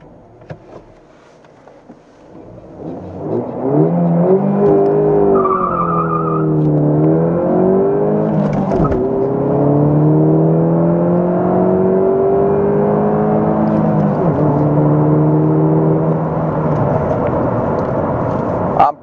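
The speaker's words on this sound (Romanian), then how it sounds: "Să vedem o accelerație de la 0 la 100 de km pe oră. O să las toate sistemele electronice active." A Ford Focus 1.6 EcoBoost accelerates hard from a standstill to 100 km/h with traction control active. The engine note climbs and drops through several gear changes, loud and steady, with no talk over it.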